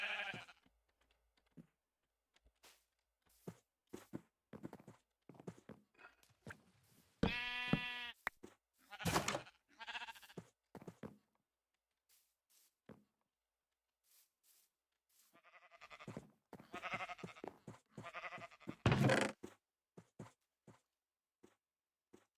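Sheep bleating in a video game, a few short, quiet wavering bleats spaced out between soft clicking keyboard taps and long gaps of near silence.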